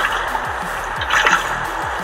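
Minecraft water flows in an irregular trickling, dripping stream that fills a pool section, steady and fairly close, with small splashy bursts near the middle and no voices.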